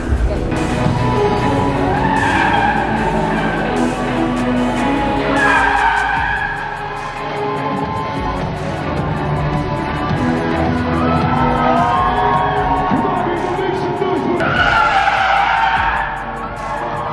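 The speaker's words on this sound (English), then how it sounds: "He'll be driving the all-new Subaru WRX" A Subaru WRX skids through a precision driving show at the Singapore Motor Show 2023, with tire squeal rising and falling over engine roar, crowd noise and a voice talking loudly throughout.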